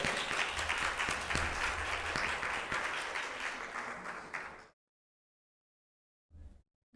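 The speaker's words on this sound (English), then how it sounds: "Alicia, give her a hand clap." An audience applauds at an investment event, loud dense hand clapping for about four and a half seconds before cutting to silence, with a brief burst near the end.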